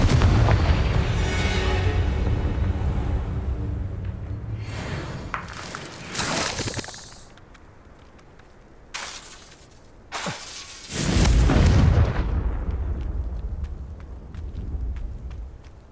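Confringo blasting spells exploding in the video game Hogwarts Legacy, several loud, booming bursts with shattering crackle separated by quieter gaps, the biggest blasts near the end.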